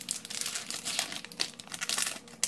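Foil wrapper of an Amonkhet prerelease booster pack for Magic cards being torn and crinkled open, a close, continuous crackling rustle of plastic lasting a couple of seconds with sharp tearing bursts, no voices.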